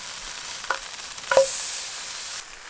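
Scrapple frying in a hot pan over a gas pit at a snowy winter campsite, a steady close hiss and sizzle with a couple of brief clicks, cutting off abruptly near the end.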